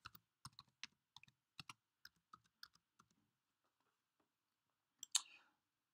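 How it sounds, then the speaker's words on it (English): Password typed on a computer keyboard: a quick run of crisp, close key clicks for about three seconds, a pause, then a final louder double tap, like a return key, in a quiet room. "I'm going to type in here the password that the school has given me"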